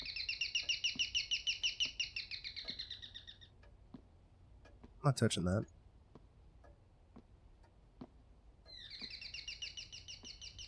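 Bird chirping in the horror video game Devotion, rapid repeated chirps that stop, give way to a soft ticking and a short spoken line, then return at the end.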